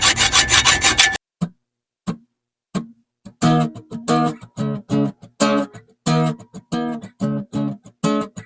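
Hacksaw cutting through the metal rear derailleur dropout of a bicycle, a few tentative strokes giving way to a steady rhythm of close, rasping back-and-forth strokes.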